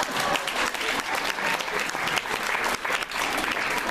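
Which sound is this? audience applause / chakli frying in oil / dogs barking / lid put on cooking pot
audience applause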